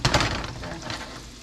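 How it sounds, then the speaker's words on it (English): A flour-coated fish steak fries in a hot pan, a brief burst of close crackling sizzle with a couple of sharp pops at the start that settles into a softer hiss. "Look at that, sizzling."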